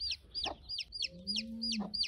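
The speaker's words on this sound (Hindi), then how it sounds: "ये देखें मुर्गी माशाल्लाह" A hen clucks in quick repeated bursts close by, with a few drawn-out calls mixed in and chicks around, fairly quiet overall.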